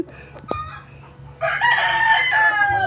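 Chickens on a rural farm: soft clucks and scattered clicks, then a loud, close rooster crow rings out for over a second.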